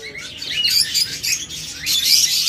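Lovebirds, offered for sale as a pair, chirp in a rapid, busy stream of high tweets, steady and fairly loud with no talking.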